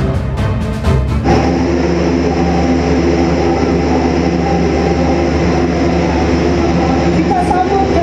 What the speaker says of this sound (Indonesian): Pesawat terbaru milik TNI Angkatan Udara Airbus 400M tiba di tanah air Senin pagi